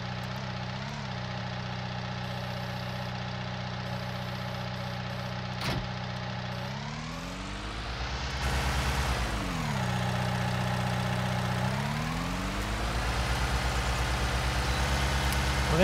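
A forklift engine running in Farming Simulator 19 during a patio demolition job, a steady droning idle that rises and falls in pitch as the throttle changes, continuous and fairly close.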